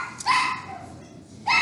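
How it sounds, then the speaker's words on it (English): Indoor dogs barking at someone arriving home, a couple of sharp yelping barks near the start and another burst at the end, separated by a quieter stretch. "The dogs are barking"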